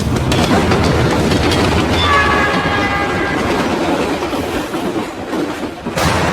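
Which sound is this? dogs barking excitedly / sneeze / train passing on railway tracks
train passing on railway tracks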